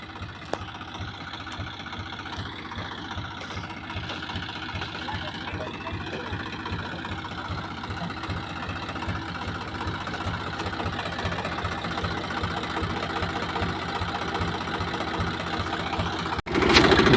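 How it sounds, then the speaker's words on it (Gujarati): A tractor engine idles on a farm with a steady, close knocking chug that holds evenly and grows slightly louder toward the end. "ટ્રેક્ટર જાય રહ્યું"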